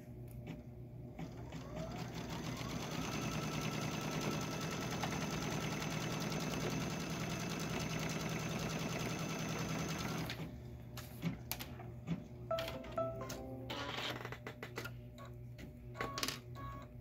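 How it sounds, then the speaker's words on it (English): An embroidery machine stitches a seam joining two fabric pieces in the hoop, a steady, loud mechanical whirring with a rapid needle rhythm for about ten seconds, then stopping into scattered clicks and taps. "what it's going to sew next is the seam to sew those 2 pieces together"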